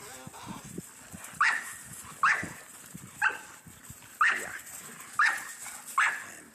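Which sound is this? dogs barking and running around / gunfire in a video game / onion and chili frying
dogs barking and running around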